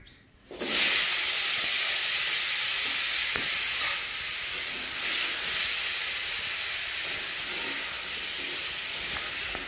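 Potato pieces coated with turmeric and salt hit hot oil and break into a loud, steady sizzling hiss that holds without pause, close by and without any voices.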